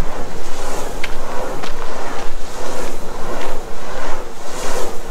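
A large 600 kilowatt wind turbine's blades turn overhead on the coast near Bremer Bay, a loud rushing whoosh that swells and fades under strong wind buffeting the microphone.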